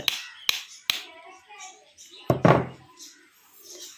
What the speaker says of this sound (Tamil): உள்ளே வச்சு சுற்றில ஒரு தட்டு தட்டிடுங்க